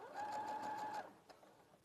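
A sewing machine stitches straight along a marked line, a quick, fairly quiet whir with a high steady whine lasting under a second, followed by a few soft clicks.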